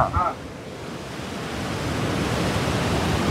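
Opened dam gates send water rushing in a broad, steady roar that builds gently, heard close and continuous, with a brief faint voice at the very start.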